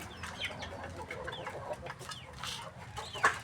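Chickens cluck and chatter close by in a steady stream of short calls, with a slightly sharper squawk near the end.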